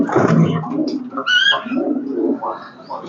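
A pigeon kept in a loft nesting area where eggs have been laid coos in low, throaty phrases close by, with several soft rolling calls and brief higher chirps, and no talking.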